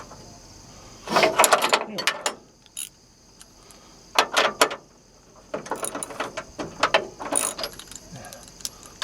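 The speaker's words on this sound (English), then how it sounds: "Little wrench will do it. Don't need anything heavy." A small ratchet wrench turning a bolt, heard as short bursts of quick clicking in several separate spurts with pauses between, close and fairly loud over a quiet background.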